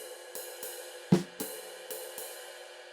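A slow jazz snare comping pattern on the and of 3: one sharp, solid snare hit followed closely by a softer second stroke, among faint evenly spaced light taps, close and unaccompanied by talk.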